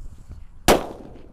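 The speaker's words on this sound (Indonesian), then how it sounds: "Lanjut kita nyalakan mercon disco yang warna merah guys." A single sharp, loud bang from a red disco firecracker bursts out of quiet surroundings and trails off quickly.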